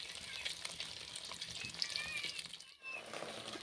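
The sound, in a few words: eggs frying in oil in a pan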